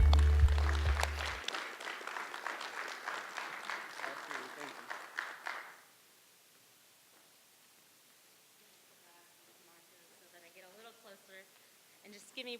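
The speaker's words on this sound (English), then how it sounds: "Give her a round of applause for Miss Maya McNulty." Applause and cheering from an audience fill the first half, then stop abruptly, leaving quiet room tone with faint murmuring and small noises.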